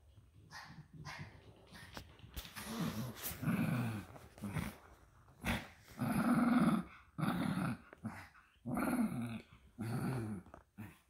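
A dog growls in a basement during a game of fetch, in low rumbling bursts that rise and fall with short gaps between them, close and fairly loud, mixed with a few whimpering tones.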